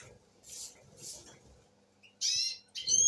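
Pet canaries chirp in short bright bursts close by, a couple of brief calls early followed by louder trilling phrases near the end over a quiet room background.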